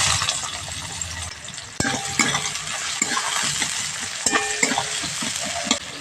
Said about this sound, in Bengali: পেঁয়াজ কুচিটা দিয়ে দিচ্ছি